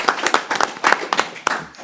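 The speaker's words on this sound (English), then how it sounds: "let's give them a round of applause" A brief, loud round of hand clapping from a small group at a city council meeting in Victoria, Texas, quick uneven claps lasting under two seconds.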